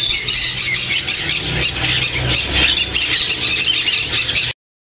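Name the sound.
Swainson's lorikeet chicks squawking at a bird market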